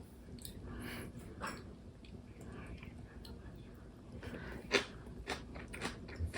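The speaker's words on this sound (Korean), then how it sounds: "한번 먹어볼게요." Soft chewing and biting of boiled pork slices eaten with kimchi, a few faint crunches and mouth sounds spread out and partly masked by background hum, with a sharper bite near the end.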